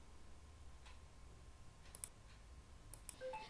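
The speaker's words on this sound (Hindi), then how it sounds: "तो यहाँ पे करके मैं चेकआउट के ऑप्शन पे क्लिक करती हूँ।" A computer mouse clicks on a checkout option on a web page. Two or three faint, sharp clicks sound alone over a quiet room hiss.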